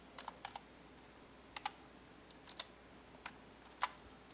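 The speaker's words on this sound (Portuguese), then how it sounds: "Vou digitar diretamente aqui." A computer keyboard clicks in short, sparse bursts of keystrokes, a few quick taps then pauses, close but quiet against a faint room hiss.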